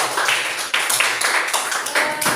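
A small classroom audience claps, with close, uneven hand claps in a quick, scattered rhythm that stays loud and steady throughout, with no talk over it.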